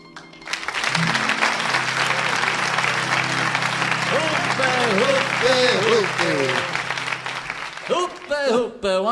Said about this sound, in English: the crowd is demanding an encore